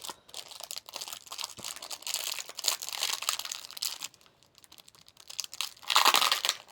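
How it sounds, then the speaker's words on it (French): Crinkly plastic packaging of an apple-flavoured horse treat is torn and rustled open, a continuous close crackle that pauses briefly before a louder burst of crumpling. "Donc je vais maintenant ouvrir le bonbon."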